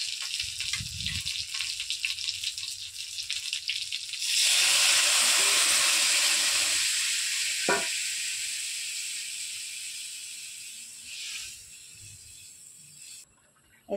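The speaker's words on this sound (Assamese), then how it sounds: "এতিয়া জোলখিনি উতলি আহিছে," Fish curry broth with ridge gourd comes to a boil in a pan, a loud hissing, steaming rush that starts suddenly after a few quiet seconds and then slowly fades.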